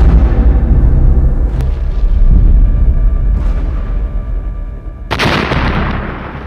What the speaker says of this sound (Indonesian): tembakan ketiga HRMS Everston tepat mengenai Anjungan RI Macan Tutul yang mengakibatkan ledakan hebat